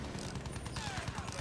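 Battlefield 1 gameplay gunfire crackles in rapid, dense bursts throughout, with steady close shots layered over a busy battlefield mix and no clear speech.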